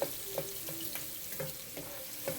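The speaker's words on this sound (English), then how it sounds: "I love the sound of sizzling garlic and onions." Garlic and onions sizzle in a pan, a soft continuous frying hiss broken by faint scrapes and taps of stirring at a steady rhythm, fairly quiet and with no voices.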